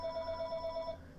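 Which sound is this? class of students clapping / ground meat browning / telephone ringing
telephone ringing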